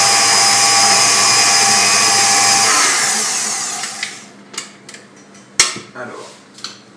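An electric mixer whirs loudly and steadily through cheesecake batter with an added egg yolk, then winds down after about three seconds, followed by a few light clinks of metal against the bowl.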